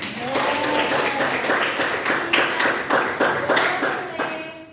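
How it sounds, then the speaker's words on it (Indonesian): A group in an Indonesian classroom lesson claps in a quick, steady rhythm of several sharp beats, loud and close, with voices chanting along. "Beri tepuk tangan"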